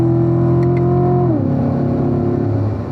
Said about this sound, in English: Back on the throttle. Up to 5th gear.